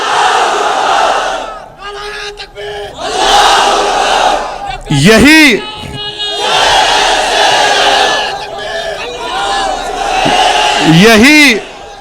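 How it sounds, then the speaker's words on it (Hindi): A large rally crowd in Jaunpur bursts into loud chanted slogans of Nara-e-Takbir, repeated bursts of massed shouting with rising whoops, close and dense throughout. "तो जोर से नारा लगाइए, नारे तकबीर"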